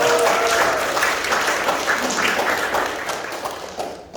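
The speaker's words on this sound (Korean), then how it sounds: "우리 큰 박수 부탁드립니다." Steady applause fills a room at an opening ceremony for a company logistics center in Daegu, a dense wash of many hands clapping for several seconds.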